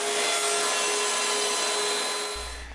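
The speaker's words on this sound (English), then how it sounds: "I'm going to have to lower the router bit maybe 1/100th of an inch here" A router bit rounds over the edge of a small wooden piece for a clock, giving a loud, steady, close whine with a sustained high-pitched tone that cuts off near the end.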